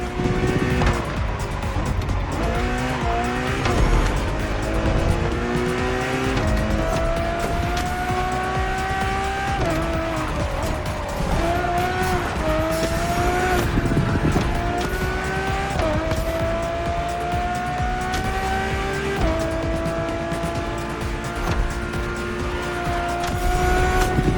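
A Ferrari hypercar races in The Crew Motorfest, its engine screaming up through the gears in repeated rising revs, with tire squeal and a loud, continuous, close roar and no talking.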